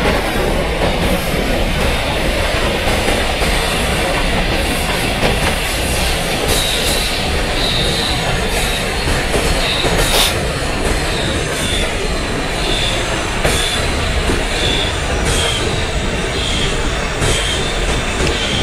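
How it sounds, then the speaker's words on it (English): A superfast express train, hauled by a WAP-7 electric locomotive with LHB coaches, overtakes on the adjacent track in Microsoft Train Simulator, a loud steady rumble of wheels and rail clatter with faint squeals, continuous throughout with no talk. "12555, Karakatam Superfast Express is overtaking our train."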